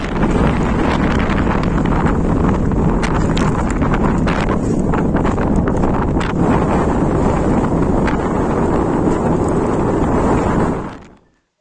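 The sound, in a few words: strong mountain wind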